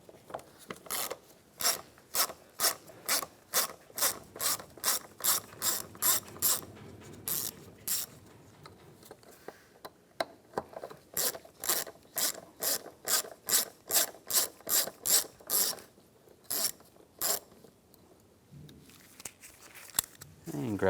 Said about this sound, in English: Using a T20 socket, we'll take these two screws out.